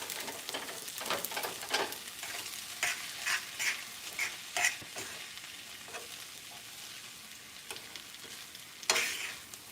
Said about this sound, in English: But what I am going to add is some soy sauce